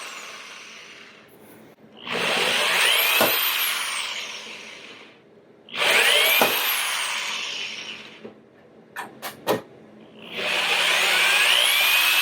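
A power drill bores into an old Digital DEC PC case in three long whining bursts, each a few seconds, separated by pauses and a few short trigger taps, close and loud.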